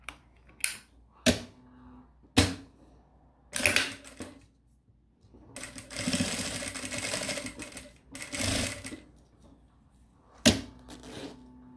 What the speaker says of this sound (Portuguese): vou passar uma costurinha de segurança para prender o meu zíper na parte principal.